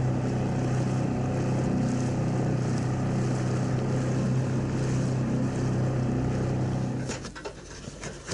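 A small outboard motor drones steadily on the water with wind buffeting the microphone, then the engine cuts back near the end.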